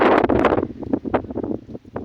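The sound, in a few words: wind blowing across cumin field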